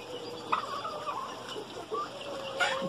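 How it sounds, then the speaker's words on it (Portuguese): Roosters and chickens calling, with clucks and bird calls repeated across the clip over a constant background hum. "Olha esse galo lindo, olha o outro galo."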